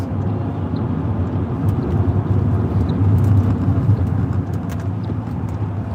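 Steady low rumble of a car heard from inside the cabin while driving, a continuous even engine and road drone with no talking.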